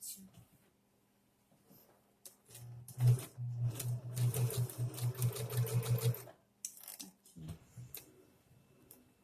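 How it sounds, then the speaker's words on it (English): A domestic sewing machine stitching a zigzag seam runs in a steady rapid burst for about four seconds, with quieter start-and-stop bursts around it and occasional talk nearby. "I'm gonna go and try and do the zigzag here."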